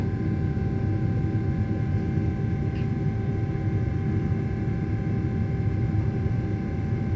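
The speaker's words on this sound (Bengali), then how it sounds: "আস্তে আস্তে বিমান উপরে উঠতেছে আর সব ছোট হয়ে যাচ্ছে" Steady, loud engine rumble from inside a passenger airliner climbing after takeoff on a flight bound for Saudi Arabia, a constant drone with no speech.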